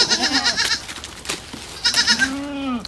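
Goats bleat on a farm that also keeps chickens, with two wavering, nasal bleats at close range separated by a short pause and faint background noise.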